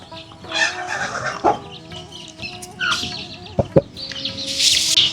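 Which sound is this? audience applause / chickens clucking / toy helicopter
chickens clucking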